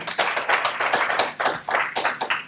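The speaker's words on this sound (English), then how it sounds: "Give her another hand clap" A small audience at a 2024 graduation program claps in a short burst of close, rhythmic hand claps that holds steady for a couple of seconds, with no talking.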